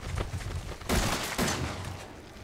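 Two loud, close gunshots in the video game Resident Evil 7, sharp blasts about half a second apart, each with a short reverberant tail over a dim ambient background.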